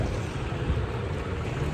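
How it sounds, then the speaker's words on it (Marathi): Heavy monsoon rain pours down strongly enough to knock roofing sheets loose, a dense, loud, unbroken roar of water with no voices. "पाऊस येतो"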